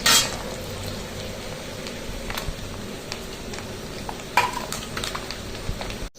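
Cumin, red chilli and bay leaf frying in hot oil, a steady close sizzle with occasional stirring clinks of a utensil against the pan.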